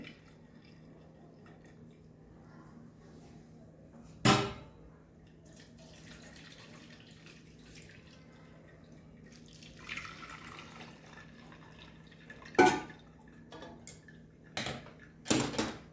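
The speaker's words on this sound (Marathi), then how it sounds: "त्याचं पाणी निथळण्यासाठी मी पुरणाच्या चाळणीत टाकते" Water drains from hot cooked lentils in a puran sieve, falling as a few separate, sharp drips against a quiet background, with longer gaps early and several drips close together near the end.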